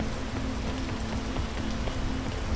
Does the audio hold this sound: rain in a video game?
yes